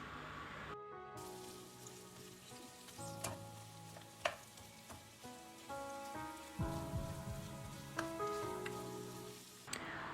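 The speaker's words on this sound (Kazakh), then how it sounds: "Қызған соң, оған майдалап туралған жуанды салып, қуырып аламыз." Finely chopped onions fry in hot oil in a pan for a chicken noodle dish, with a soft, continuous sizzle and occasional light clinks from stirring throughout.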